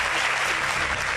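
A church congregation claps together in a dense, even burst of applause, steady and fairly loud throughout.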